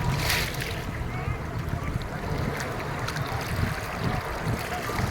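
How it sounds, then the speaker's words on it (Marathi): Ocean waves surge and break on the shore at Ganpatipule beach in a continuous loud wash of water mixed with wind rumble, close by, with a faint voice in the background. "आणि कसं आहे बघा ही लाट आहे"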